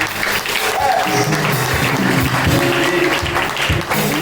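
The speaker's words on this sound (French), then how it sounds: "On applaudit Jésus-Christ." A church congregation claps steadily and loudly for several seconds, with voices mixed in beneath the applause.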